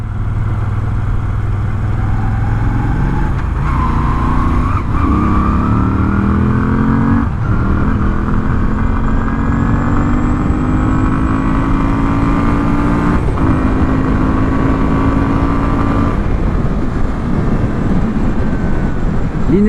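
A Moto Guzzi V7 motorcycle engine cruises steadily in fourth gear around 2000 rpm, a loud, close, even drone that rises slightly in pitch with a few brief gear or throttle changes.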